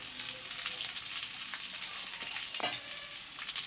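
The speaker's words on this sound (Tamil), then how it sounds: "இப்போ அதை எல்லாத்தையும் கிளறி விட்டுக்குங்க. சாதத்தை இதில் சேர்த்துக்கலாம்." Curry leaves and cooked rice for spicy kaara soru hiss in a frying pan with a constant, fairly quiet sizzle, and a couple of soft spoon scrapes from stirring. No voices.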